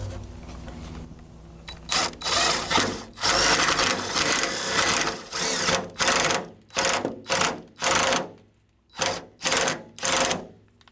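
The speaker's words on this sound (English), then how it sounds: "I'm going to try to cut the hole with this, and then we'll probably smooth it with some sanding" A power tool cuts a hole in metal during water inlet plumbing work, sounding in a series of loud, harsh bursts that stop and start in a steady rhythm with brief pauses between passes.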